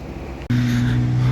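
V8 car engine running loud and close, a brief dip then a steady rough drone with a strong low hum, suggesting a sputtering misfire; no talking.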